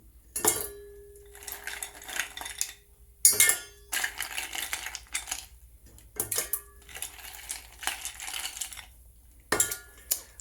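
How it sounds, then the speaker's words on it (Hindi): Ice cubes clatter and clink into a metal vessel of sattu sharbat in bursts, with several bright knocks and rattles separated by short pauses, close and fairly loud with no talking. "तो इसके बाद इसमें मैं बर्फ़ भी इसमें मैं ऐड कर दूंगा।"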